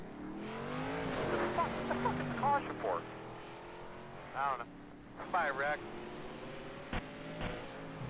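NASCAR K&N Series race cars running at Martinsville, a layered engine drone with rising and falling tones as cars pass, under continuous excited commentary.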